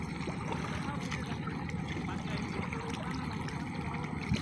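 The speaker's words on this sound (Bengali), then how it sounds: "ট্রলার আসে পড়ছে।" A trawler boat approaches on a river near a ferry ghat, its engine a steady low drone under lapping water and faint voices, quiet and continuous.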